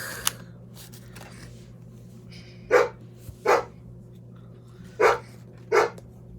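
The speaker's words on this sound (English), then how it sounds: "You can stop barking." Dog barking indoors, four clear separate barks in two pairs, moderately close, with a faint steady hum and a few small clicks between them.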